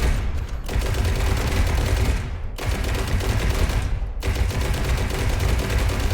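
Sustained bursts of video game gunfire from a boss in ITER 8, dense rapid shots in three long volleys with short breaks between, loud and close.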